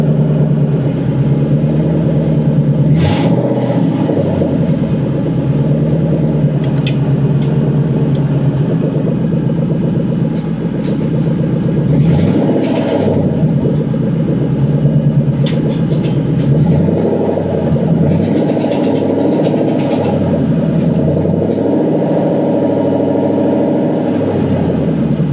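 A Mustang Cobra engine with no mufflers rumbles loudly and continuously while driving, a deep raw roar with swelling and easing rev surges throughout.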